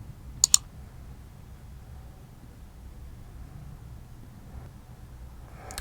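Two quick, sharp computer mouse clicks come close together near the start, followed by several seconds of quiet room hiss.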